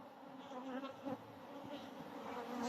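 Honey bees at a hive make a steady, dense buzzing drone close by, with individual bees flying past and swelling briefly within the hum.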